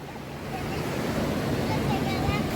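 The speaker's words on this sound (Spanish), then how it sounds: "Es que el sonido del mar está fuertísimo." Loud, continuous roar of ocean surf breaking on Miramar beach in Tampico, Mexico, with wind buffeting the microphone and faint voices in the background.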